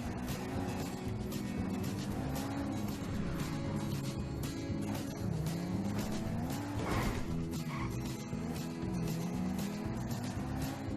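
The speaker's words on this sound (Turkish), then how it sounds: "Bu arada altındaki araç bir Alfa Romeo." Engine drone and tire noise from an Alfa Romeo car driven through a zombie-infested factory area in a Spider-Man video game, a steady loud rumble with rising and falling revs and a brief clatter midway.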